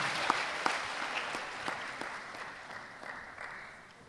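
Applause from a graduation ceremony audience, a moderate round of clapping heard from a distance that slowly fades over a few seconds.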